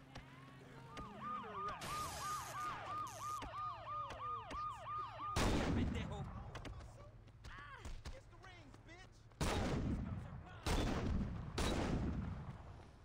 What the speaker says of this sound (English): It's a double barrel shotgun.